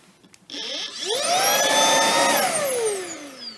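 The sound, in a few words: Shark IONFlex hand vacuum running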